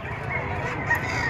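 Chickens at a livestock auction market in Padre Garcia, Batangas give off steady clucking and rooster-like calls, close and moderately loud over crowd murmur and background voices.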